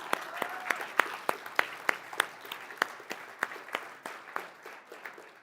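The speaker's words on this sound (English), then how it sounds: "if we can give a little round of applause" Audience at a talk giving a round of applause, a modest scattering of individual claps at an uneven pace, fairly close and moderately loud, with murmuring voices underneath.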